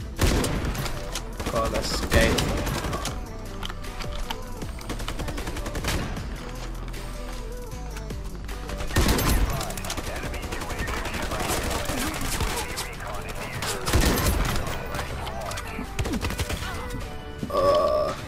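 Rapid bursts of gunfire and automatic weapon fire in the online shooter video game Ironsight, repeating throughout with several louder volleys, under brief spoken exclamations from a player.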